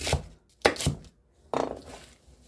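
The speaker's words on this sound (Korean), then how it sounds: "무시하고 비슷한 크기로 나박하게 썰어주세요" A knife chops radish into thin square pieces on a cutting board, with three or four separate close, firm thunking strokes spaced by brief pauses.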